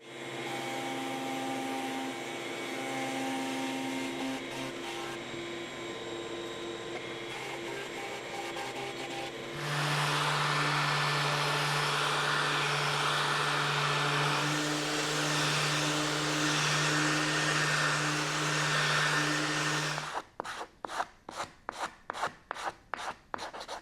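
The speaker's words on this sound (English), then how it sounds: "we're going to do a 5/16 round over on both the top sides to make it more comfortable as a bench" A router table cuts a 5/16 round over along garden bench boards: a steady high-pitched motor whine with a rasping cut that grows louder midway, then a quick series of sharp knocks at the end.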